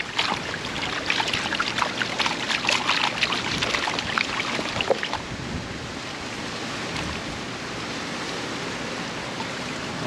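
Water sloshes and splashes repeatedly as gravel and black sand are washed out of a tilted gold pan during prospecting, a close, busy splashing that eases into a steadier wash after the midpoint.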